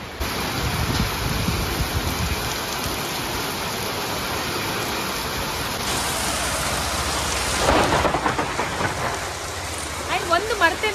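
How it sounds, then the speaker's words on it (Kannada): Heavy rain pours steadily on the street during a market visit in Bidar, with thunder rumbling through it and someone speaking over the downpour toward the end. "ಒಳ್ಳೆ ಮಳೆ ರೀ."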